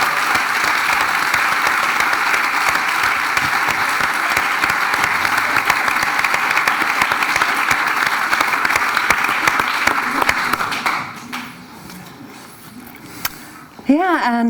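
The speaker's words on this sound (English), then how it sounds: "I think we should have a round of applause for everybody who's here." An audience at an evening session gathering gives a round of applause, dense sustained clapping for about ten seconds that then fades to scattered claps and quieter room sound, with a voice briefly speaking at the end.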